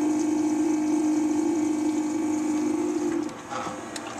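A steady mechanical hum of a tea maker pumping water, close and constant, fading slightly near the end.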